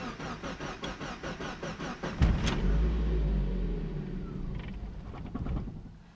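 A Mazda Miata with a standalone ECU cranks on a cold start with a rapid starter chatter, then briefly fires into a loud, low rumble that fades and dies away, with no talking.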